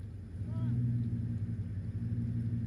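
A Ford F350 pickup stuck and revving hard in reverse, a loud steady low engine rumble held under throttle, with a brief faint voice in the background.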